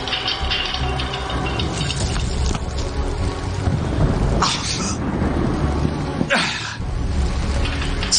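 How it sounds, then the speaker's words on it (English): Rolling thunder in the video game Enclave, a loud continuous rumble with surging swells and a few bright crashing bursts, steady throughout with no voices over it. "The rolling thunder of my fellow Outlanders."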